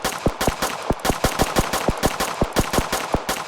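Rapid gunfire from a top-down shooter game, a steady run of sharp, loud, close shots in quick bursts with brief gaps and no voices.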